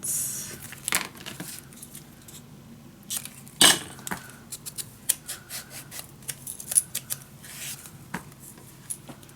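Scissors snip through a full sheet of patterned paper while trimming the left side for a vintage winter mini album, giving a run of close, crisp cuts and small clicks with brief pauses between them.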